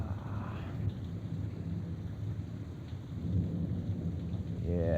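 A thunderstorm with steady rain hissing and low rumbling thunder rolling underneath, a continuous wash of sound that swells slightly toward the end, without speech.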